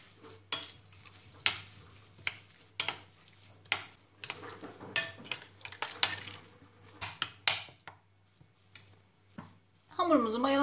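Pepper flakes, cumin, thyme and salt being stirred into bread dough in a bowl, with repeated scraping and clinking strokes of a spoon against the bowl, close by and irregular.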